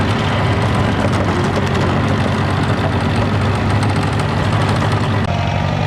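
A tractor engine idles steadily throughout, a constant low rumble close by with no talking.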